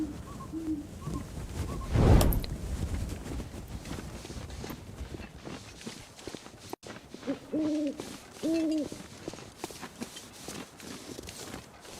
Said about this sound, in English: We don't see the owls even when we're out at night, but we get to hear them.